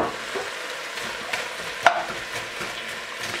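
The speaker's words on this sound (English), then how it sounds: "I'm gonna go ahead and throw the onions right in." Onions hit hot oil for Senegalese chicken yassa and sizzle continuously, a close, even frying hiss with a sharp clink partway through as they are stirred; no voices.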